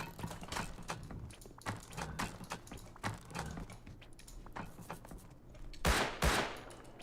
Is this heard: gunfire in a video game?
yes